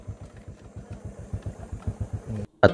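A motorcycle engine putters in a steady, rapid pulsing rhythm at moderate distance, a quiet thumping idle that continues until an abrupt louder knock right at the end.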